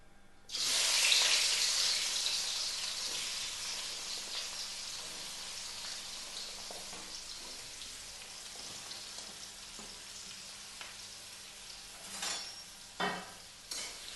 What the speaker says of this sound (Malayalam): അപ്പോൾ ആ എണ്ണയിൽ തന്നെ നമുക്ക് ഈ സവാള ഒന്ന് വാട്ടിയെടുക്കണം